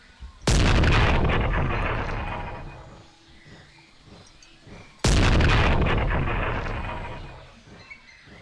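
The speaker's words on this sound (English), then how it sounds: "it takes so long for the rocket launcher to actually reload per shot" Two booming rocket launcher shots in the Carnivores video game, each a sudden loud blast followed by a long rumbling decay, spaced about four and a half seconds apart.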